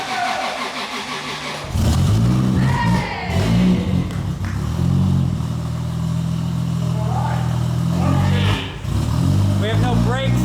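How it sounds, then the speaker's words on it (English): A 1998 Toyota Supra engine cranks and catches for its first start at about two seconds, then runs rough and loud with several revs, voices talking over it. "Here it is, the Supra's first start."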